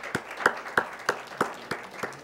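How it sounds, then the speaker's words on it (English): Applause for a winning high school quiz team at an A-Team Challenge game: a sparse, quiet run of about seven evenly spaced claps, close by and without talk. "Let's give them a big round of applause."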